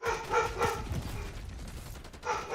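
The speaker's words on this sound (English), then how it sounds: "Can you hear the dog barking?" A dog barks several times in quick bursts, fairly close, with a pause in the middle and a final bark at the end, heard alone with no talking.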